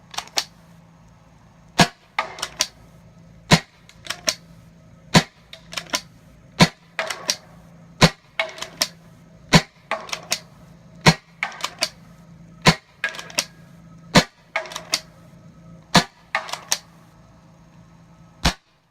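Repeated sharp shots from Asura and Crosman 12-gram CO2 airguns fired at a target, roughly one crack every second or so, each followed by faint pellet impacts and clicks, with no talking.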